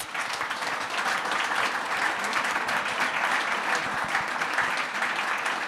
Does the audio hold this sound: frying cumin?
no